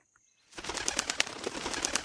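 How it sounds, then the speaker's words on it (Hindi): Two large owls take off from the top of a tall banyan tree at night and flap through the air, making a steady, close, dense rustling flutter of wingbeats with no other sound. "ये आवाज करते हुए दो बड़े बड़े उल्लू हवा में परवास करते हुए सामने की डाल पर जा बैठे।"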